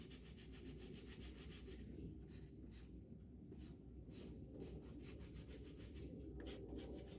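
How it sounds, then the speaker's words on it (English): Sneaker uppers on a 2003 black NYC Air Force 1 being scrubbed during cleaning: a steady, close, continuous brushing and rubbing with quick repeated strokes, heard alone without talk. "All we're doing is giving these a light scrub down."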